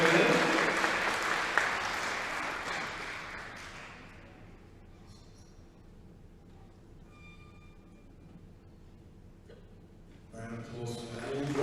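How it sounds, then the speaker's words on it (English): An audience claps at a powerlifting award ceremony. The dense applause is strong at first, then fades to a quiet room, and a fresh burst of clapping rises at the end. "Round of applause for that."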